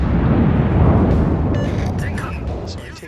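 Big naval guns of a North Carolina battleship roar in World of Warships as a heavy, rumbling boom that slowly decays, with faint chirps and game effects overhead while a voice talks.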